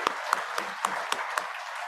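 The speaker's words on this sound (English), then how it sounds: "I want to give them a round of applause right now for their service" Sparse applause at a meeting, a handful of distinct, fairly evenly spaced claps from a small group, moderately close and with no one talking.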